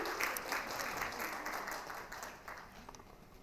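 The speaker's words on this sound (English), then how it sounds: "Can we have a big round of applause, please? All of you." Applause from an audience at a business event introducing company CEOs, a steady wash of clapping at moderate distance that stays even throughout, with some background voices underneath.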